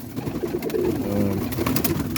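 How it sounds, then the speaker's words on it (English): Pet pigeons or doves give a run of soft, low cooing calls, near and steady, with faint rustling and movement around them and no talk. "These birds, they're not very hungry."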